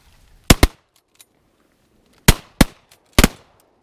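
Shotgun blasts ring out during a duck hunt in Colorado, several sharp reports in quick pairs and a single shot, loud against a quiet outdoor background.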